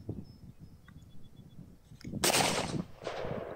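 A Mossberg Shockwave shotgun fires a Remington low recoil slug outdoors, one sharp, fairly loud blast with a short decaying tail, then a second softer report.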